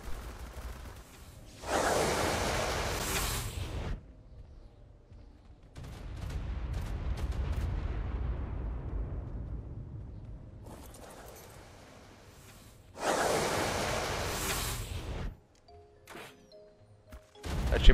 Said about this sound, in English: there's so many explosions going on, so this is pretty risky